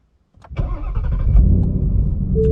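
A 2020 Ford Mustang GT V8 engine cranks and fires up on a cold start with a deep burbling roar, then settles into a loud, rumbling idle.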